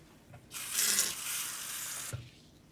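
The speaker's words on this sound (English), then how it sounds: "now fill your other little bowl with water" Tap water runs into a small kitchen bowl for a dumpling-making step. A soft splashing pour lasts about a second and a half and ends with a light clunk.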